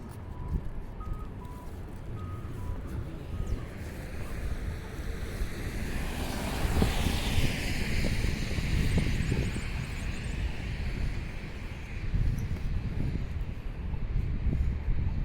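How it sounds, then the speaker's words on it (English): Steady wind buffets the microphone on a mild winter walk outdoors, a continuous loud rushing roar with gusts swelling midway and no talking. "I guess there's more wind now than I thought."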